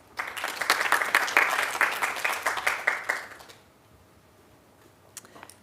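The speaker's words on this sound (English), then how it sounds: "So can we have a round of applause for Jenny?" A conference audience at a hospital research week event bursts into dense, close clapping that holds for about three seconds, then fades to quiet with a few stray claps.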